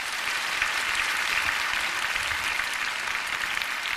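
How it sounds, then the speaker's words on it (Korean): A church audience claps in sustained, dense applause to welcome a missionary speaker, loud and even throughout with no voices on top. "이렇게 큰 박수로 환영해 주셔서 정말 감사드립니다."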